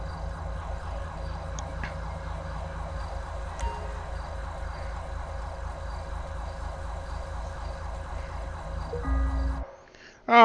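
An ambulance siren wails steadily at moderate volume during a police patrol in Grand Theft Auto V with the LSPDFR mod, repeating in an even cycle before cutting off near the end.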